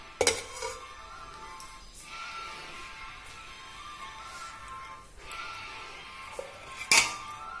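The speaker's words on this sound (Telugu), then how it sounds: "ఇది తాలింపు వేసాను." A tempering for tamarind rice fries in a pan, a soft continuous sizzle beneath intermittent metallic clinks and scrapes of a utensil against the pan, sharper knocks at the start and end.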